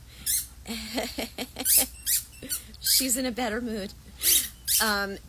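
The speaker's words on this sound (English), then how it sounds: "if you hear squeaking, that's the dog" A dog squeaks repeatedly in short, high, wavering bursts, close by, interleaved with and partly under a woman's speech.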